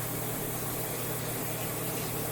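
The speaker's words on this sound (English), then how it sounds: "Now I'm going to pull out the Immersion blender." An immersion blender whirs steadily through enchilada sauce, a dense buzzing motor hum with broad noisy wash, close and continuous with no talking.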